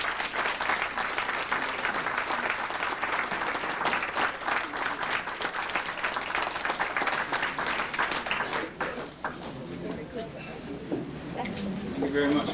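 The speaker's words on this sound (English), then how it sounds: "Thank you very much for that applause." An evening audience applauds after a speaker is introduced at an honors event, a dense, sustained wash of clapping that thins toward the end as a voice begins.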